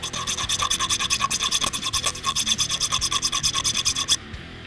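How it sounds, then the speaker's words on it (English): A file rasps rapidly back and forth over the cut edge of a metal hose clamp during a Ford Mustang GT supercharger install, making a loud, close, fast rhythmic scraping that stops abruptly near the end. "If you're left with a sharp edge, you want to file it down and make sure it doesn't cut the hose."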